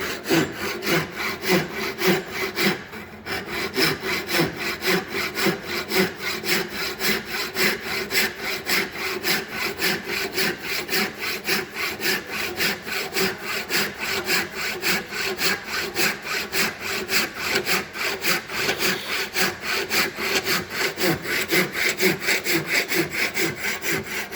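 A hand saw works steadily through a piece of wood clamped in a vise, a loud, close, rhythmic rasp of push and pull strokes that runs without pause for the whole stretch, with no talking.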